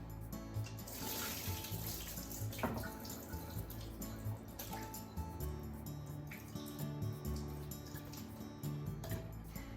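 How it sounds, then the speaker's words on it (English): Rehydrated wakame seaweed drains through a kitchen strainer, with water trickling and dripping steadily and continuously at close range, no voices. "So let's drain using a strainer."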